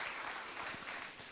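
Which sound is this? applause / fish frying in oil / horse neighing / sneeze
applause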